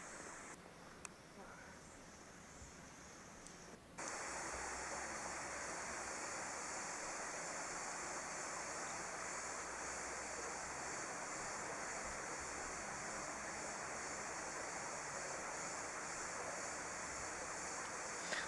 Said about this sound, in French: On entendait la cascade au loin